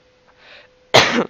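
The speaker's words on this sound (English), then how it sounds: "I got a pretty bad cough" A single sharp, loud cough bursts out near the microphone after a faint murmur, ending abruptly.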